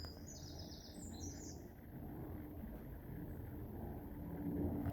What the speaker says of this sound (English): the wren.